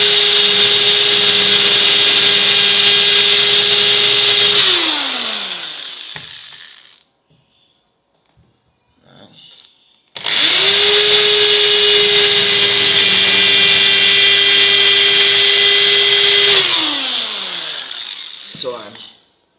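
A power drill runs in two long, loud bursts countersinking screw holes in wood, each steady whine winding down at its end, with a short quiet gap between bursts.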